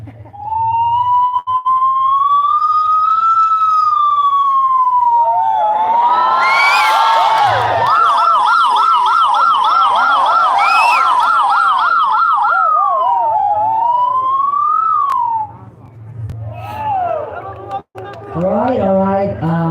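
A human voice imitating an ambulance siren wails up and down loudly over a crowd and traffic, shifting between a slow whoop and a fast yelp, then fading.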